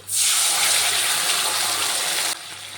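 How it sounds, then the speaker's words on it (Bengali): A short gush of water poured from a rinsed spice bowl into a pan of ginger-cumin paste frying in oil, a loud splashing hiss lasting about two seconds before quickly cutting off, with no talking. "ওই মশলার বাটিটা ধুয়ে একটু জল দিয়ে দিলাম"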